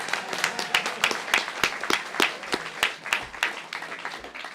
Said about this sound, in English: you want to give her another round of applause